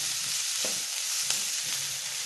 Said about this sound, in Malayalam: ഒരു 2 മിനിറ്റ് നന്നായിട്ടൊന്ന് വഴറ്റിയെടുക്കാം.